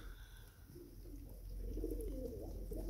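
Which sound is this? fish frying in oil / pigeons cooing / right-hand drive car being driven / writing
pigeons cooing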